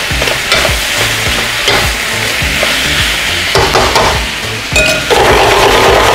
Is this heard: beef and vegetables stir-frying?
yes